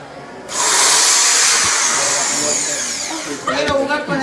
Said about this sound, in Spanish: Quiero jugar con el taladro.